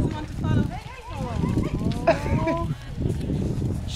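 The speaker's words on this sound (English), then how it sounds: "We just found a cow." Cattle on a farm on the Dingle Peninsula, with a cow and her newborn calf nearby; a few drawn-out lowing calls rise and fall under steady chatter from several people.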